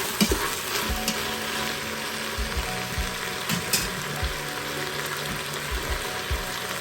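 A salted veg biryani mixture stirred in an Instant Pot gives a constant bright sizzle, with irregular scraping and knocking strokes of the spoon against the pot, close and fairly loud, no speech.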